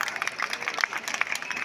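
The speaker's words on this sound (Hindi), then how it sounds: "हाथ उठा के ताली बजाओगे तब मानेंगे" An audience at an outdoor Eid Gah mushaira poetry gathering claps together, a dense, steady patter of many hands for a brief moment.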